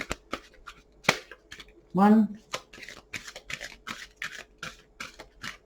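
Tarot cards being shuffled in quick repeated riffles and taps, close up, with a brief spoken word partway through.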